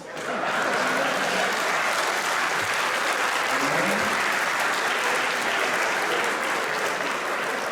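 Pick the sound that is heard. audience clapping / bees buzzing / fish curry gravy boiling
audience clapping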